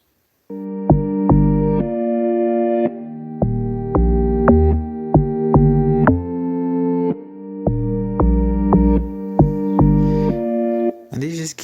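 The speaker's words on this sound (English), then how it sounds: "And then I added another log drum preset" A deep, bouncy log drum preset pattern for a modern Afrobeat plays alone in FL Studio, punchy low tones with harmonic overtones in a syncopated groove, briefly pausing before ending.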